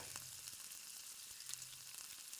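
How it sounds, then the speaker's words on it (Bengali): Pabda fish fry gently in a pan, not cooked crisp, producing a soft, continuous sizzle with faint crackles and pops, quiet and heard alone. "আমি মাছগুলো কিন্তু খুব কড়া করে ভাজছি না"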